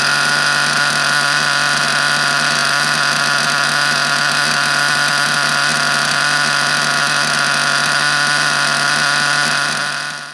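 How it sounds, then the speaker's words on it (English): A small engine runs continuously on its first tank during break-in, a loud, steady buzzing drone with little variation that cuts off at the end. "This engine was very, very easy to break in, ran mint, no problems whatsoever."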